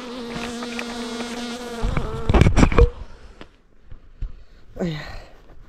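Wild bees buzz loudly around their nest on a bamboo hill, a close droning hum with a sudden burst of rustling and handling, then a brief voiced sound near the end.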